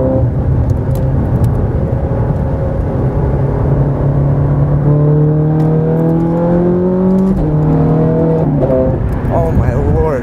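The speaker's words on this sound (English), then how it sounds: "we're heading onto the highway here. We're taking a 270-degree ramp." A Ferrari accelerating hard onto a 270-degree highway ramp, its engine a loud, continuous drone whose pitch climbs in repeated sweeps as it pulls through the gears.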